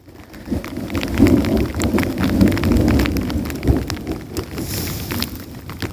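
Steady monsoon rain pours down outdoors in the desert, a dense, continuous patter that swells and eases slightly, with low rumbling underneath that may be distant thunder.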